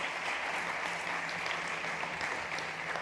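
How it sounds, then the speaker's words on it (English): An audience claps steadily for a speaker leaving a conference stage, a continuous, even wash of applause through the whole stretch with no voices on top. "So please, big applause for Ibon."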